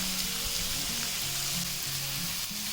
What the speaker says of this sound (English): So I'm going to just do a medium fry on this, not a complete fry, just a medium fry.